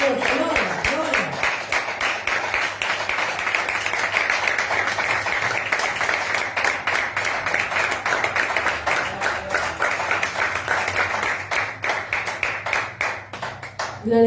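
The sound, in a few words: church congregation clapping for the Lord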